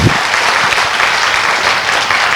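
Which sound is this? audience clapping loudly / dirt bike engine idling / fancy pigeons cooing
audience clapping loudly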